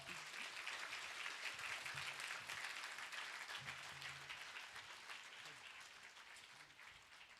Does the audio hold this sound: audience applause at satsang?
yes